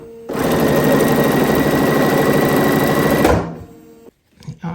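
A sewing machine chain-pieces scrap quilt fabric in one steady, fast, close mechanical whirr lasting about three seconds before stopping abruptly, followed by faint handling sounds.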